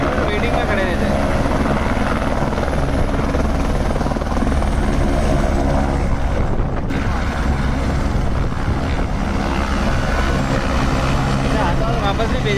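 A helicopter at the Kedarnath helipad roars loudly and steadily throughout, its rotor thump constant and close, with voices talking faintly underneath.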